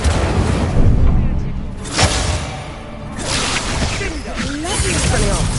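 The Incendio fire spell cast in Hogwarts Legacy, a loud, dense whooshing burst with a booming edge, rising over a busy background of game sound and fading after a few seconds.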